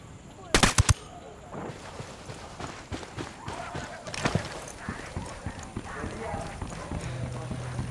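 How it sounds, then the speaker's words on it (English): Gunfire from a tactical shooter video game, a loud burst of rapid shots near the start and another volley later, with scattered smaller pops and thumps among ongoing game sounds and voices. "We're shooting everything just to scare off the VIPs and get Carzita back here."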